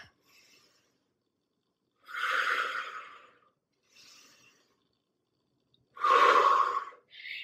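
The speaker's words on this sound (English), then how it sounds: "Breathe. Deep inhale." Deep breaths after a boxing workout, two long, loud inhale-exhale bursts with fainter breaths between, close and alone.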